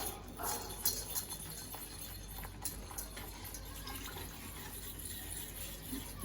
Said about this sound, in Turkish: Şimdi sütümü ekleyeceğim.